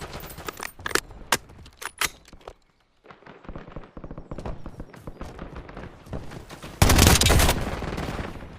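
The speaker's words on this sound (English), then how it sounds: "I'm reloading." Weapon reloading and gunfire in the video game Call of Duty: Warzone: sharp metallic clicks and clacks, a short silence, bursts of rapid shots, then a loud blast near the end.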